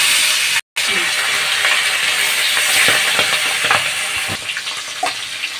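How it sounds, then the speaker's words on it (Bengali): Fish rubbed with salt and turmeric sizzle in hot mustard oil in a wok, a steady loud hiss and spatter with scattered pops and crackles throughout. "মাছ দিয়ে ভেজে নেব।"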